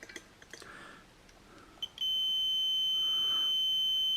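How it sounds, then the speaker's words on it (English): A digital multimeter set to continuity test mode gives a sudden steady, shrill, continuous beep that holds at constant loudness after a few soft clicks and handling sounds. "We take our multimeter, put it in continuity test mode. That's the mode where it beeps."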